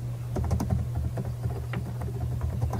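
Rapid, uneven clicks of a computer keyboard being typed on nearby, with a steady low hum under the keystrokes.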